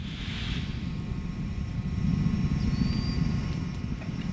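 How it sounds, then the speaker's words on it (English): Space Shuttle Discovery's three main engines roar at launch as a steady, heavy low rumble, distant yet powerful and sustained throughout. "Discovery's 3 main engines throttle back up"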